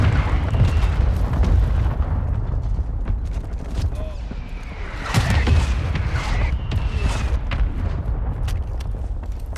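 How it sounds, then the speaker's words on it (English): Mortar strike explosions in Call of Duty: rumbling blasts over a constant battlefield din, with the loudest deep boom landing midway through and fainter impacts around it. "Hostile mortar strike near your position."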